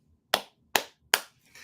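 Three sharp, separate hand claps sound close by, evenly spaced about half a second apart, each snapping out of near silence before a faint rustle at the end.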